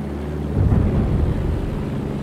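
A steady, close drone of an early propeller airplane engine from the World War I game Battlefield 1, heard during a test flight. It swells slightly after the first half second and has no talk over it.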